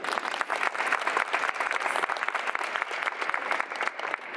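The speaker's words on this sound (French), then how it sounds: "Je vous demanderai de l'applaudir." A room full of people claps steadily and enthusiastically, a dense, continuous wash of applause that holds at the same level throughout.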